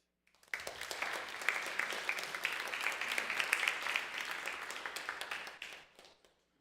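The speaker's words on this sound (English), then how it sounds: "Let's give a round of applause." A congregation at a Clergy Appreciation Day service breaks into applause that swells quickly, holds as dense hand-clapping for about five seconds, then tapers away, moderately distant and without talk.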